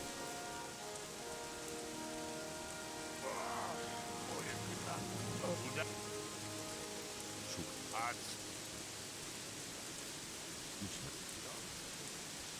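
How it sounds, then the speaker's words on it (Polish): Steady rain pours down in the game Gothic 3, a continuous hiss of falling drops. Faint voice-like sounds and scattered noises sit underneath it. "będę musiał sprawdzić, czy da się jakoś wyłączyć deszcz w tej grze, bo to jest naprawdę upierdliwe straszne"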